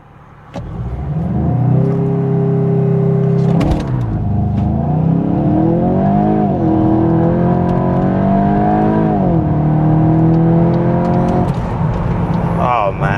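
A 2026 Volkswagen Golf 8.5 GTI engine revs up loudly and close while driving, its pitch climbing through several gears with brief drops at each shift, a steady strong drone throughout.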